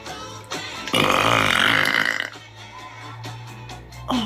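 A single loud, drawn-out burp rumbles for over a second, close to the mic, followed by quieter throaty sounds.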